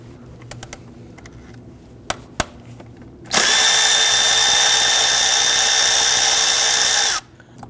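A power tool, likely an impact driver or drill, loosens and removes an 8mm bolt holding the exhaust VVT solenoid coil on a 2013-2019 Ford Police Interceptor Utility; a few clicks come first, then one steady loud whir of about four seconds, close up.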